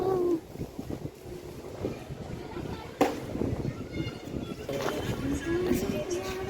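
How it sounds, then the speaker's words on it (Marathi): Steady wind buffeting the microphone with a low rumble throughout, while voices talk faintly underneath. "मस्त वारा सुटले बघ."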